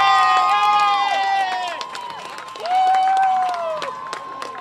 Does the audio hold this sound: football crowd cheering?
yes